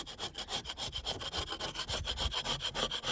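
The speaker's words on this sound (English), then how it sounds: "with only a couple of scrapes, and there's no effort whatsoever. It literally is just peeling off." Scraping softened paint off bare wood with a scraper: quick regular rasping strokes, about five per second, close and fairly loud, with a gritty rub on each pass and no talk.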